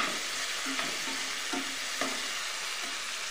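Tomato sautés in hot oil with a steady bright sizzle, a few soft stirring scrapes rising briefly over the frying, no voices.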